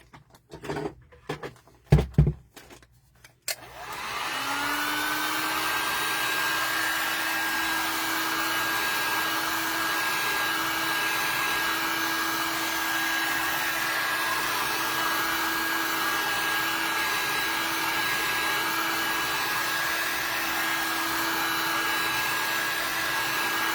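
A hair dryer blows on a craft item, starting abruptly after a few light knocks and then running as a loud, steady whine and rush, close and unbroken for the rest of the time.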